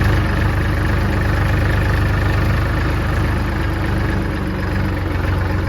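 A tractor engine idles steadily and loudly up close, a continuous low throbbing rumble with a regular pulse that holds for the whole stretch with no talk over it.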